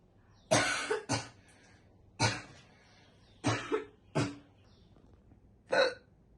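Coughing of a smoker with chronic bronchitis: five or six harsh, close coughs in short bursts, some doubled in quick pairs, separated by brief pauses of near silence.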